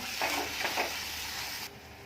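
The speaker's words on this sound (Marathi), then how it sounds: "काजूची पेस्ट सुद्धा जरा कांद्यामध्ये छान अशी परतून घ्यायची एक दोन मिनटं" Cashew paste and onions frying and being stirred in a pan over low flame, a steady close sizzle with a few brief stirring scrapes, ending abruptly quieter.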